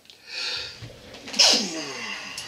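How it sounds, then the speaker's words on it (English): One loud sneeze erupts close by after a short breathy build-up, followed by a faint trailing exhale. "And now I've got the dang sneezes."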